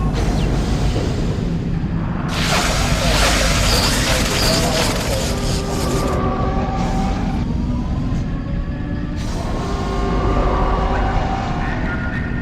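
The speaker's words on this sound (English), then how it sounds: "Shuttle landing." A space shuttle landing, a loud sustained roar with rumbling low end and hissing bursts that swell and fade in waves, some whistling tones riding above, no speech.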